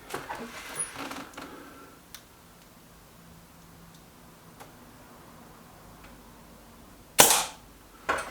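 A sharp, loud crack from a Brocock Concept Lite air rifle, followed a second later by a fainter click, after several seconds of quiet handling noises.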